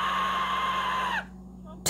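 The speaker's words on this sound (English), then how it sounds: "That's a really good scream." A sustained high-pitched scream comes from a cartoon-style reaction scene. It is loud and steady for about a second, then cuts off abruptly, followed by a short burst of noise.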